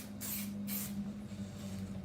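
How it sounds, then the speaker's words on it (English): Spray fixative misted onto a car drawing in two quick bursts and a third at the end, a soft close hiss over a steady low hum. "Spray fix."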